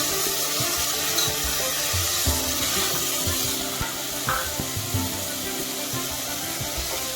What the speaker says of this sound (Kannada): ಟೊಮೊಟೊ ಹಾಕ್ತಾ ಇದ್ದೀನಿ.